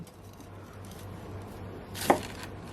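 A single crisp crunch of a knife slicing through a crispy crab omelette, near and brief, over a low steady background hum.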